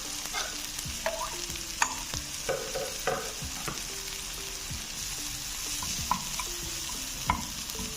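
Curry leaves sizzling in hot oil for a tadka on aloo palak, a steady bright crackle and fry with scattered sharp pops and stirring clinks throughout, close and fairly loud, no talk.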